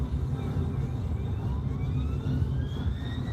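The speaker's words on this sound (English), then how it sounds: "Just an ambulance." An ambulance siren wails as it passes along a UK motorway, its rising and falling tone sweeping over the steady road roar heard from inside a moving car.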